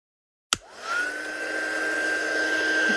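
A heat gun or hair dryer blows steadily over a freshly embossed watercolour card, switching on abruptly and settling into a constant whirring hum with a faint high whine, close and alone.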